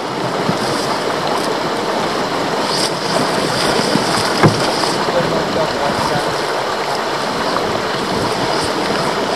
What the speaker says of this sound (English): Beautiful little rapids there.